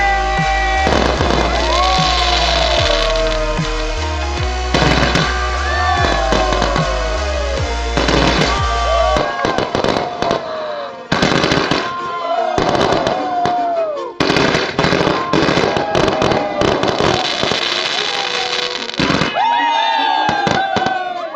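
Rapid, loud crackling bursts of 100 Diwali firecrackers lit together, going off in dense clusters for many seconds, with short pauses between volleys and faint voices underneath.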